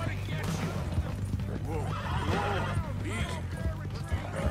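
A horse in Red Dead Redemption 2 whinnies repeatedly over clip-clopping hooves, with a player talking throughout.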